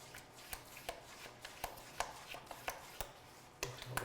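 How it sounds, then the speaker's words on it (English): Whisking evaporated milk, brown sugar, eggs, grated nutmeg, ginger, allspice and cinnamon together in a bowl for pie filling, heard as a string of quiet, irregular taps and scrapes, close and faint, with no talking. "I've got all my ingredients in my bowl, so I'm just going to mix this up"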